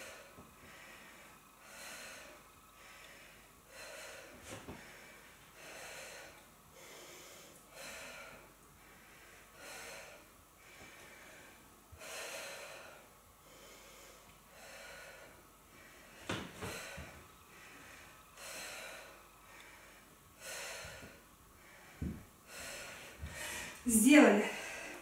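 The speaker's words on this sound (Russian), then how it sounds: "Дышим." Heavy, rhythmic breathing after a CrossFit-style workout, with repeated sharp exhales and snorting breaths at a steady pace, close and fairly quiet, rising to a louder burst at the end.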